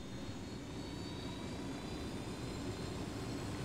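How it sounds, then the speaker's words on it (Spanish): Steady helicopter engine drone in the video game Tom Clancy's Ghost Recon Wildlands holds at a constant level throughout, a continuous rotor-like roar with no voices over it. "Voy en el helicóptero, espérate."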